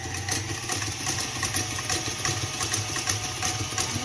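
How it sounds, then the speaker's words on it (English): An electric mixer with a whisk attachment whips heavy cream in a mixing bowl, a steady close motor whir with a fast rhythmic rattling pulse throughout. "we're going to go ahead and start mixing that with a whisk attachment"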